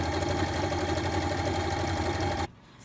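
A sewing machine stitching closed the waistband opening of a pair of pants, a steady close mechanical whirring hum that runs evenly and then stops abruptly near the end.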